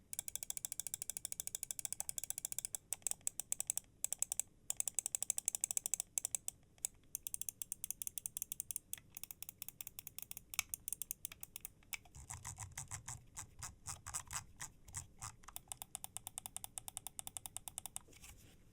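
Razer Orochi V2 wireless mouse clicked rapidly and its scroll wheel spun, giving dense runs of crisp close clicks and ratcheting wheel ticks with brief pauses, alone without speech.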